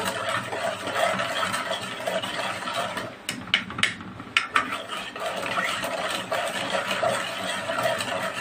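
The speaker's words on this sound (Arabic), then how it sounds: "لا هنفضل نقلب لحد ما النشا تدوب والسكر" A spoon stirs starch and sugar in a pot, scraping softly and steadily, with a few sharper metallic clinks against the pot's side midway.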